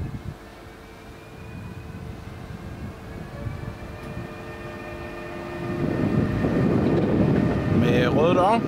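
Steady rumble and wheel noise inside IR4 passenger train 2139, with a faint whining tone, growing louder toward the end.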